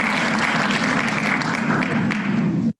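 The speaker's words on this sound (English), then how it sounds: "let's just give her another quick applause" A quick round of applause on a group call, dense, steady clapping at fairly high level for under three seconds before it cuts off abruptly.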